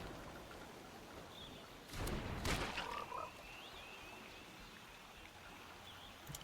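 A toad card played in the video game MTG Arena croaks in a short burst of quick clicking croaks, faint and brief, over a quiet watery ambience.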